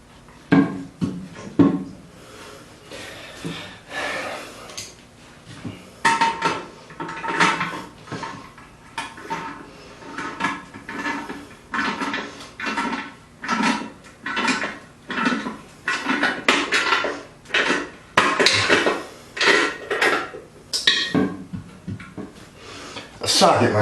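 A toilet being rocked back and forth while it is reseated on a new wax ring makes repeated knocking, clunking and scraping sounds in uneven bursts close by, while a person talks throughout.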